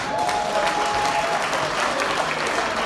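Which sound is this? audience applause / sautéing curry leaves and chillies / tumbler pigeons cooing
audience applause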